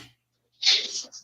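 A single sharp human sneeze bursts out after a moment of silence, close and fairly loud, with a short breathy tail, heard during a radio call-in program.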